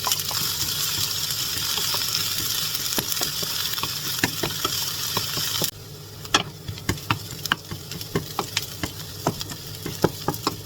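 Garlic frying in a pan while chicken rice is cooked in a home kitchen: a strong, steady sizzle that drops lower halfway through, punctuated by sharp clicks and taps of a utensil stirring.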